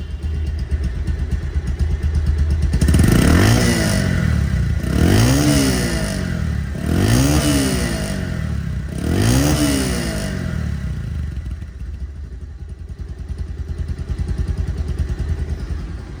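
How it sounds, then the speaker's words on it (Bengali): A 2024 Bajaj Pulsar DD ABS motorcycle engine idles nearby, then revs four times in quick succession, each throttle blip rising and falling. It settles back to a steady, loud idle. "রানিং অবস্থায় সাউন্ডটা দেখেন কত স্মুথ সাউন্ড"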